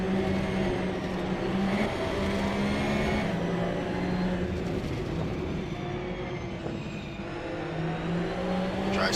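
Onboard engine of a Porsche Cup race car lapping the Nürburgring, a loud steady high-revving drone with sustained harmonic whine and small pitch shifts through gear changes, continuous throughout with no talk.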